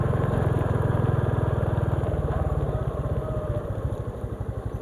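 A Honda XRM 125 FI motorcycle engine while riding, a steady loud rapid low thrum that loosens into an uneven rumble, with wind noise throughout and no talk.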